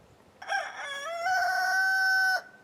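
An adolescent rooster crows once, a close, loud, strained call that rises and then holds a long nasal note before cutting off abruptly.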